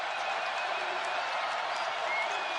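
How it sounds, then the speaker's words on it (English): Basketball arena crowd cheering and clapping during a college game, a continuous bright roar of many voices and hands, steady and loud from start to finish with no pauses. "Crowd into it now"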